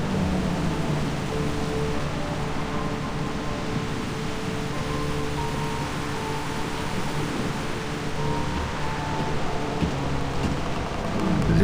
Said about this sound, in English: This storm is quite a delightful surprise.